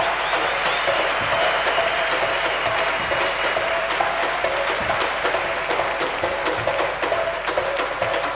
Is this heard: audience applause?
yes